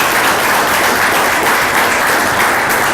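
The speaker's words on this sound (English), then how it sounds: "let's give the director, Sean Baumgartner, and all of his staff here at this National Cemetery a big round of applause" A crowd at a Vietnam veterans pinning ceremony in a national cemetery claps steadily, a dense, loud, even wash of applause lasting the whole stretch.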